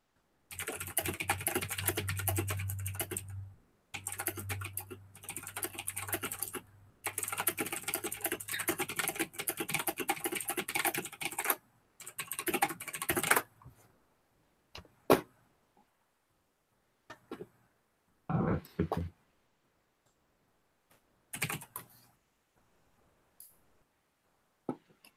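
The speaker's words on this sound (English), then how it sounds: "Loud ass typing. I'll get a different keyboard." Loud, close clattering of a computer keyboard comes in rapid bursts of typing separated by short pauses, then turns into sparse isolated clicks and stretches of silence.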